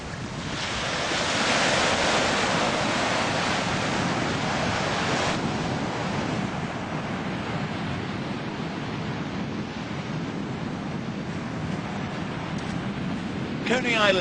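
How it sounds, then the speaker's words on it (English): Surf and gusting wind at Coney Island Beach in Brooklyn on a cold, deserted morning form a constant broad roar of breaking waves mixed with microphone wind buffeting, steady throughout. "Coney Island Beach in Brooklyn."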